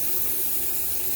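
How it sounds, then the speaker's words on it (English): Running water pours steadily over a shaving brush as it is rinsed, a brief, even, close hiss of flowing tap water with no voices. "Rinsing out the brush right now."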